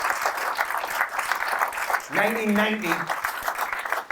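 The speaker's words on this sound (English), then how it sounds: "Yeah, round of applause." An audience at a Newcastle United fan evening at the Tyneside Irish Centre breaks into a round of applause, steady clapping throughout with someone speaking briefly over it partway through.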